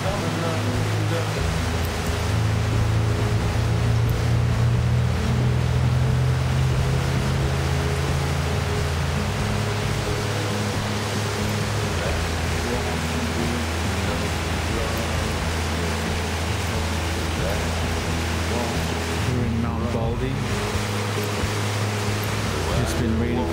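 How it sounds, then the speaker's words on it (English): A river swollen by days of heavy rain rushes along the Joatngna Trail in the Mt. Baldy foothills, giving a constant, full roar of water with low rumbling undertones and no clear speech above it. "The river is coming down pretty hard, pretty good"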